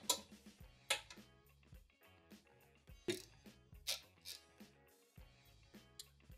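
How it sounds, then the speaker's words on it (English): A wrench works loose the bolts on a Yamaha G29 golf cart, a series of faint irregular ratcheting clicks and metallic ticks spread across several seconds. "We want to take these bolts out."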